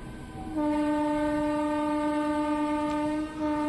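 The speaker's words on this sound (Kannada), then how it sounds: "ನಮ್ಮ ಟ್ರೈನ್ ಈಗ ಆಕಲ್ಕೋಟೆ ರೋಡ್ ರೈಲ್ವೆ ಸ್ಟೇಷನ್ನ ಸ್ಲೋ ಆಗಿ ಸ್ಕಿಪ್ ಮಾಡ್ತಿದೆ" A train rolls slowly through Akkalkot Road railway station in India, its horn sounding one long, steady, loud blast close by for about three seconds.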